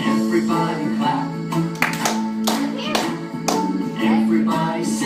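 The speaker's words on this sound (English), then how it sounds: "Everybody clap." Children clap along to a bouncy sung tune, with a steady run of crisp, evenly spaced claps close by over the music.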